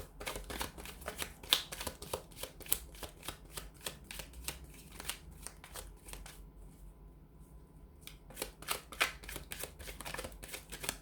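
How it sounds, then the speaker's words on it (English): Tarot and oracle cards being shuffled close up, a rapid riffling patter that continues steadily, pauses briefly, then resumes; quiet and without talk. "So we'll go ahead and give the cards a shuffle."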